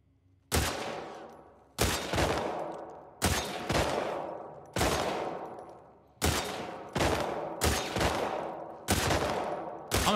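Video game gunfire in The Last of Us Part II: roughly eight loud, sharp bursts fire in quick succession, each decaying before the next shot.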